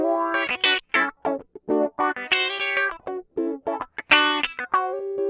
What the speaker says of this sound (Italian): è come se l'effetto di auto-wah fosse indipendente appunto dalla forza con cui suono sulla chitarra